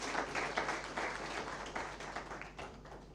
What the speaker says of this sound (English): Can we clap better for Consulate?